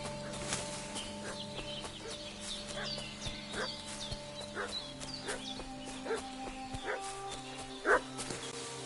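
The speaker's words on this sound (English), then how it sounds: "What's that dog making such a fuss about?" A dog in Kingdom Come Deliverance 2 barks repeatedly at a distance, short sharp yelps scattered across the scene, mixed with clucking fowl and rustic village ambience, with a louder bark near the end.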